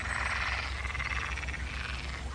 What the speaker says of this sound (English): I wonder if they're real frogs or if they're recordings, because I don't see any frogs.